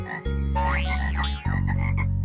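Loud cartoon frog croaks in a German children's cartoon, deep buzzy calls close to the listener, the second croak coming in pulsing, rhythmic bursts.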